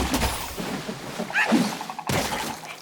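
A frog enemy bursting apart in the action game Black Myth: Wukong gives a sharp smashing thunk near the two-second mark, with scattered game effects before it.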